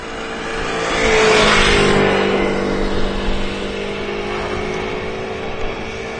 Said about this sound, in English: What looks like a Vueling A380 with them IE engines with already retracted the gear as well.